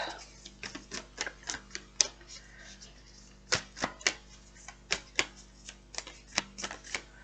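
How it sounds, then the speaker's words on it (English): Rapid bursts of tarot cards being shuffled, riffling in quick irregular clusters with short pauses between, close and fairly clear, no talking. "oh my god, the shuffling"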